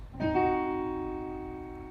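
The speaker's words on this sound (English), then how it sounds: "Diminished sounds like this." A single diminished piano chord struck once and left to ring, its tone slowly fading over about two seconds with no other sounds.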